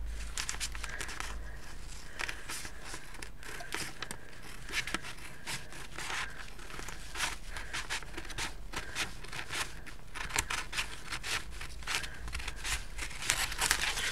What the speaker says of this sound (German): Und dann könnt ihr außenrum das Papier wegschneiden.